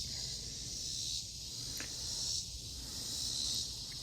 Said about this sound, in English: Here are the bugs. Good day to be a dirt dauber.